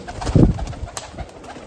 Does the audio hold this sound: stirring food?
no